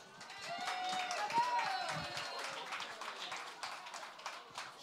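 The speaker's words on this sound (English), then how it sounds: "big applause for Maria Gillen" An audience at a storytelling event claps for storyteller Maria Gillen, a dense, even patter of many hands that holds steady throughout, moderately distant, with a voice audible over it early on.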